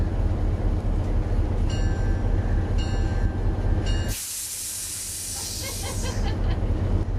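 A train's steady rumble with faint bell-like tones, then a loud burst of hissing steam that sprays for about two seconds before fading.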